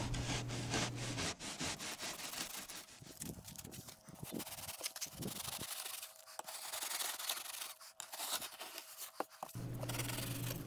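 A kitchen knife scraping and carving cement while shaping a life-size castle window, giving a continuous gritty rasping of strokes with short pauses between them. The sound is close and steady, with no speech.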